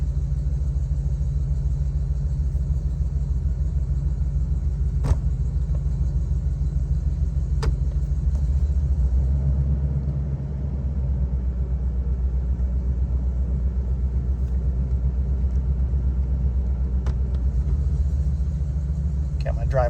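A 2022 Ford E450 motorhome engine idles while warming up, a steady low rumble that stays loud and even throughout, with a few faint clicks over it.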